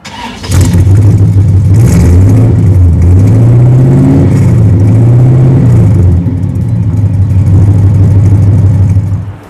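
A 5.7-litre Chevy small block V8 in a 1965 Chevy Impala revs loudly and repeatedly, its deep rumble rising and falling through several throttle blips before settling back to a steady idle.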